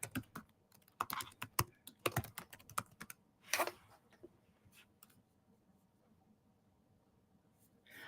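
A website address is typed on a computer keyboard in a quick, close burst of key clicks that comes in bursts and pauses, followed by one heavier clack before near silence.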